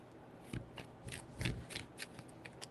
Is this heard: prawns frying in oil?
no